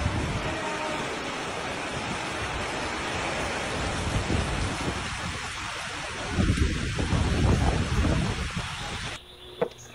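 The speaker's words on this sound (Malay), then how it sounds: "kat luar tu berlaku ribut yang sangat kuat" Violent windstorm with heavy rain lashing outside a classroom, a dense, steady roar of wind and downpour that swells louder midway, then cuts off abruptly near the end.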